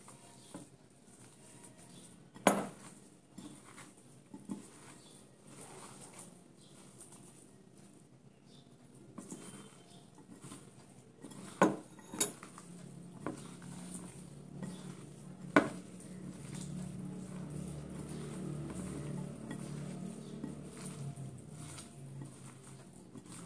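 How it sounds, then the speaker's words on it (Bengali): Soft, irregular squishing and patting of a potato and onion-stalk cutlet mixture being mixed by hand in a bowl, with a few sharp clinks against the dish, close and fairly quiet throughout. "এবারে মাখাবো, শুকনো এতে মাখাবো।"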